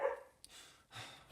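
A few sharp dog barks, close by, separated by short pauses.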